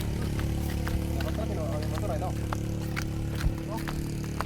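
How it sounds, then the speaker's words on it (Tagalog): A drone flies overhead above a damaged road, its steady, whining propeller hum running constantly beneath people talking. "Paliparan natin ang drone guys"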